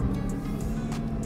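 A Bugatti Chiron engine runs just after starting, giving a steady, close, low mechanical hum with a few faint ticks on top and no voices.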